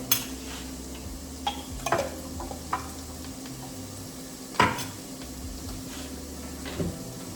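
Minced garlic and onion sautéing in a pot give a steady low sizzle, broken by a few sharp clinks and stirring knocks from utensils against the cookware.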